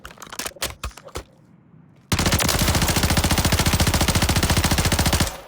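A rapid, loud automatic gun burst in the Call of Duty Warzone shooting range: a few separate shots first, then a sustained fast volley of about three seconds that stops abruptly.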